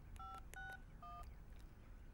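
A telephone keypad gives several short, clear dialing tones one after another, quiet and close against a low background.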